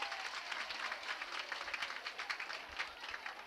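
A small group of students at a school claps enthusiastically for a few seconds, a dense patter of hands without voices.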